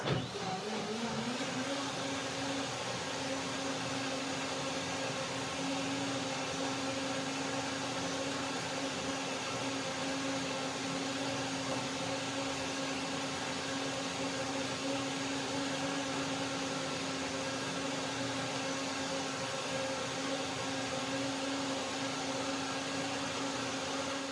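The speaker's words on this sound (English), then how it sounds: "let's see what happens after the second blending" A blender making a date, cashew and peach shake with ice cubes: a steady motorized whir runs continuously for the whole stretch, spinning up at the start and holding an even pitch, with no voices.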